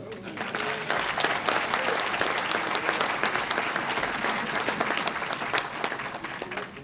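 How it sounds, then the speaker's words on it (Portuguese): Applause for Brazil's Minister of Culture, Gilberto Gil, at a telecommunications industry panel event: dense, sustained clapping from a large audience filling the room steadily for the whole stretch, with a few voices mixed in. "pedindo uma salva de palmas para esse super-ministro tropicalista de Estado da Cultura, Gilberto Gil"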